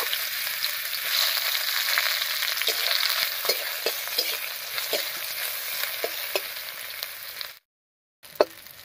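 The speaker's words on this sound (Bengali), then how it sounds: "তেলের মধ্যে দেবো থেতো করা রসুন আর কাঁচা লঙ্কা" Crushed garlic and green chilies sizzle in hot mustard oil in a wok, a steady loud crackle with repeated stirring clicks and scrapes throughout, briefly cut near the end.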